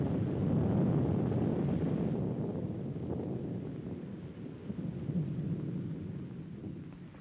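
A storm in a 1933 western film rumbles with low thunder and steady wind, a continuous heavy roar that slowly eases off over several seconds.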